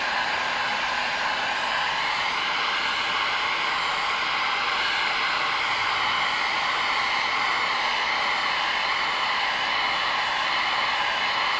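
A heat gun blows steadily while heating degraded, discolored plastic during restoration, a constant loud airy roar with a slowly shifting whine running alone throughout.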